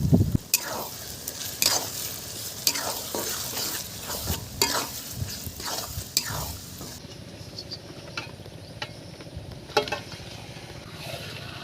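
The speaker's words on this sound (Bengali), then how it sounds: "এবারে দিয়ে দিচ্ছি আদা বাটা।" Ginger paste sizzles in a hot pan while a spoon stirs it with rhythmic scraping strokes and metallic clinks, loud and close, before the frying fades to a quieter hiss.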